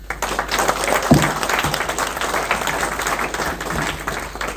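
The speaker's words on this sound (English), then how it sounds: "Please give a big round of applause to Bruce Jitte." A business network gathering in Australia greets its speaker with a big round of audience applause, a full continuous roar of many hands clapping, loud and sustained, with a few sharper thumps near the start.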